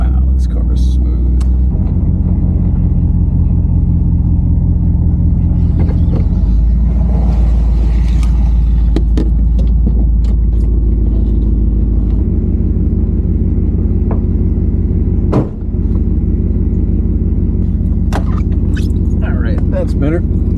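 An old Buick barn find that had sat for years rumbles steadily from inside the cabin while driving, a loud low engine drone with shifting tones and a brief dip, under occasional talk.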